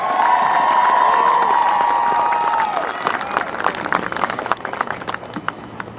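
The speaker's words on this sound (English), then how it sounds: "give a nice warm round of applause for the Glasgow High School Red Dragon Marching" A crowd at a high school marching band performance cheers and shouts loudly at first, with voices ringing out. Scattered clapping then carries on and gradually thins.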